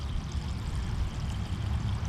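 Water drains out of a fuel tank after a hose is pulled free, a steady low gurgling pour that runs without a break for the full two seconds.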